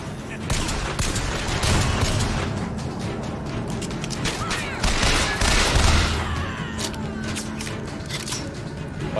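Rapid, loud gunfire bursts from weapons in the first-person shooter game Bioshock Infinite, crackling shots and mechanical clatter continuing densely through the whole stretch with a few heavier peaks.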